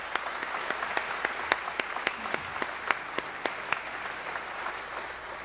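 A small audience at a jazz concert applauds a quartet's musician, with distinct individual claps standing out sharply in a regular rhythm over a softer bed of clapping, moderately close.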